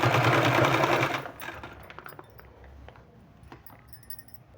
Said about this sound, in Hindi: इसमें इसको इस तरह से अटैच करके सिलाई लगा लेना है